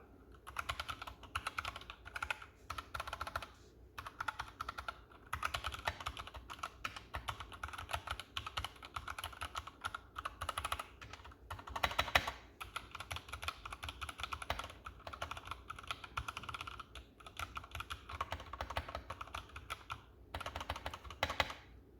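Continuous typing on an Anne Pro 2 mechanical keyboard, rapid clattering keystrokes at a steady pace, close and fairly quiet, with no voices.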